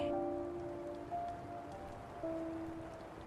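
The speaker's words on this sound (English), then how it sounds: "rain tapping lightly on the glass, a steady lullaby" Light rain tapping on window glass, a soft, steady patter heard faintly behind a low sustained musical drone, calm and even throughout.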